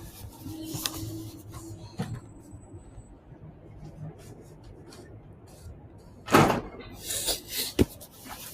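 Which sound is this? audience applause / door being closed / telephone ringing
door being closed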